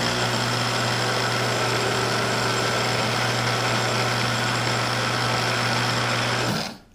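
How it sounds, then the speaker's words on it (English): A spice grinder whirs steadily as it grinds poppy seeds, a loud, continuous high-pitched motor whine that holds for about six seconds before cutting off and spinning down. "So, we're going to grind for about 10 seconds."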